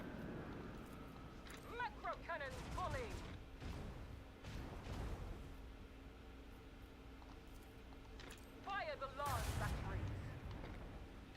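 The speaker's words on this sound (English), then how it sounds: "First going to launch multiple torpedoes." Several torpedoes launch in a video game, heard as a dense run of booming blasts and whooshing sweeps over continuous loud game noise, with chirping tonal effects.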